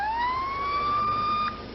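Police car siren from recorded 1989 Boston dispatch audio, a single steady wail rising then holding high, loud and alone with no talk, cutting off near the end.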